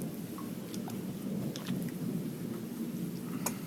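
Steady rain and a low thunderous rumble from an Italian thunderstorm, a continuous wash of sound with a few sharp drip ticks, no voices.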